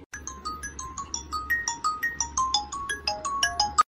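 A bright electronic phone ringtone plays a rapid chiming melody of short tonal notes, loud and close, repeating steadily for the whole clip with no voices.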